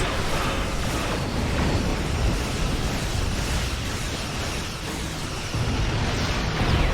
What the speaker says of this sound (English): Well, that torpedo did some damage.